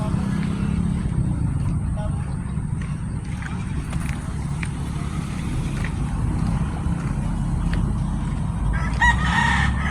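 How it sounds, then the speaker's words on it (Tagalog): Chickens cluck and a rooster crows amid outdoor noise by a rice field in Ilocos Sur, with some low rumble and occasional voices in the background. "May mga manok pa dito oh."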